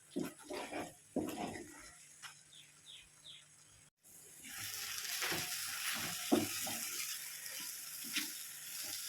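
A snack mixture stirred in about three teaspoons of ghee in a pan, a steady close sizzle with faint scraping that rises after a short pause, preceded by a few soft clinks and rustles.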